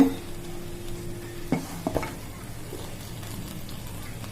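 Thick jaggery syrup bubbles and sizzles softly in a pan while a spoon scrapes and stirs a few times.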